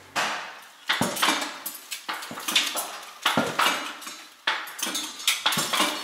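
Repeated metallic clanks and knocks, irregular but steady, a loose driveshaft banging under a BMW, fairly close and loud with no talking.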